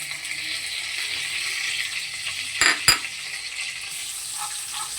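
Whole cumin, garam masala and bay leaf sizzle in hot oil with a steady, bright hiss, broken midway by two sharp metallic clinks of a utensil against the pan.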